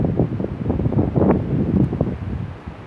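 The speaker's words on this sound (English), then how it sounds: "The wind is strong enough to push that over." Strong windstorm gusts roaring and buffeting the microphone outdoors, a continuous loud rush with rustling, swelling and easing over a few seconds.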